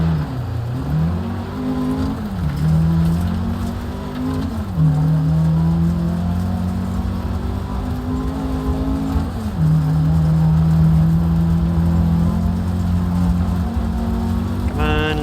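A Lancia rally car engine in a racing video game revs and drones steadily, its pitch climbing and dropping through gear changes in a continuous, loud, close-up roar.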